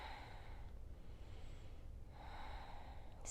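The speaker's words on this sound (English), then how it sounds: "Breathing." Soft, close breaths during a yoga lunge: two quiet, airy inhales and exhales in a calm, slow rhythm.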